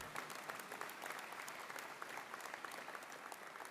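Sustained crowd applause fills a political convention hall in Créteil after a speech by Bernard Cazeneuve, a dense, steady roar of many hands clapping without pause.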